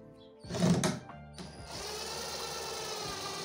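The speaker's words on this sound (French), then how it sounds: "on vient visser proprement la vis qu'on a mis là-haut" Screw being driven into a plywood cabinet panel with a power screwdriver, a short loud whirring burst followed by a steady mechanical hum that continues to the end, close by, with no voices.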